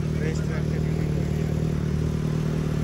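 Sports motorcycle fitted with an expensive aftermarket exhaust, idling and revving with a deep steady rumble beside other bikes in a lineup; the engine stays constant and fairly close, and voices talk faintly over it.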